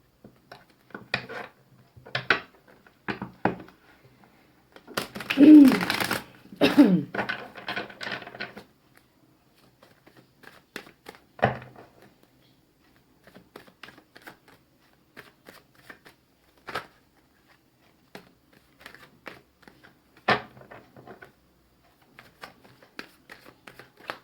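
Tarot cards being shuffled by hand, close and crisp, with bursts of riffling and flicking separated by pauses across the stretch.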